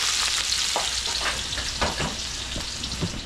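Onion sautéing in a hot pan, a steady close sizzle broken by several sharp stirring scrapes and clinks of a utensil against the metal, with no voices.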